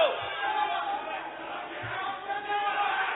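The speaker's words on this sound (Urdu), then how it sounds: "آپس میں نعرے بازی نہ لگائیں." Members of parliament chanting slogans in a noisy assembly chamber, a crowd of voices shouting together in a continuous din with louder surges.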